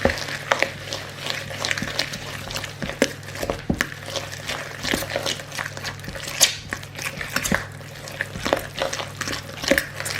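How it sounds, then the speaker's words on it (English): Banana flapjack batter with an egg is stirred steadily in a bowl, soft wet scraping and sloshing strokes repeating over a low steady hum, with no talking. "Okay, just give that a good mix."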